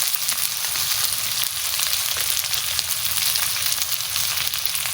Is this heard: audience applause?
no